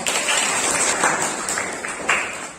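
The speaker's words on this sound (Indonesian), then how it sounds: "Kita kasih aplaus" A classroom group gives a round of applause after a student's reflection in an Islamic religious education lesson, steady dense clapping for a couple of seconds with a few sharper individual claps standing out near the end.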